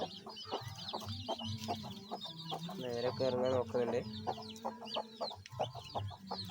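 Chickens and chicks clucking and cheeping nearby as they are let out of their coop, a steady chorus of chirps with louder clucks in the middle, while a person talks over it.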